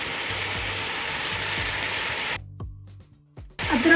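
Mutton frying in a pan with crushed ginger garlic paste, a loud steady sizzle and crackle that drops away briefly near the end before returning, no voices.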